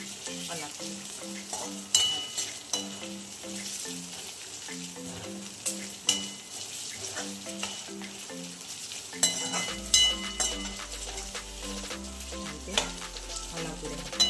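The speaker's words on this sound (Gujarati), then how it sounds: "બટેકા બફાઈ જાય ને ત્યાં સુધી આપણે હલાવતું" Raw potatoes fry in a pan for sabudana khichdi while being stirred, a steady close sizzle broken by spatula scrapes and light clinks against the pan, with soft rhythmic music underneath.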